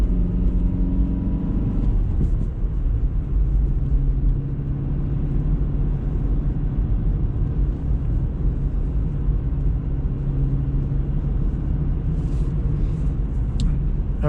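A car engine running on LPG hums in a steady low drone from inside the cabin on a night drive, smooth and even throughout with no talking.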